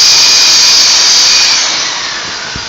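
A hot air welder blows a steady, loud hiss while welding down the edge of a replacement inflatable floor. The whoosh stays even, then eases slightly toward the end.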